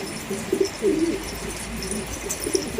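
Pet pigeons coo softly and repeatedly, low bubbling calls coming in short bursts, with a steady rush of strong wind behind them outdoors.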